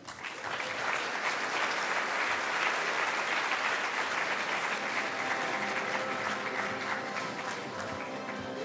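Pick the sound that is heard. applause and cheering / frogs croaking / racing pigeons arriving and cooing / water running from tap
applause and cheering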